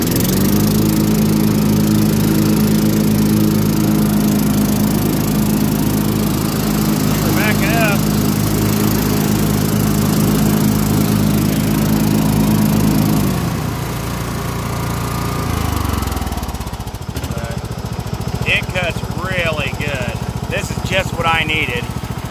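A Cub Cadet lawn tractor engine runs loud and close with a steady, buzzing drone, then winds down to a lower, quieter idle partway through, with faint chirps in the background afterward.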